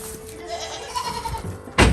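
A goat bleats on a farm during morning milking chores, a short wavering call up close, followed by a sudden loud clatter at the end.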